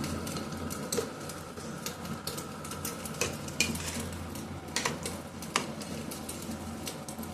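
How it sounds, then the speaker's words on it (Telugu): Yogurt being stirred into chicken curry in a pan: a spoon clinks and scrapes against the metal again and again over a soft, steady sizzle, close by, with no talking. "పెరుగు వేసేస్తున్నాను. అంతా ఒకసారి కలబెట్టాలండి."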